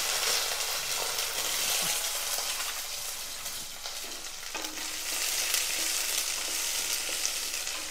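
About 150 grams of small onions fry in a ladle of oil, giving a steady, close sizzle with soft stirring scrapes throughout and no talking.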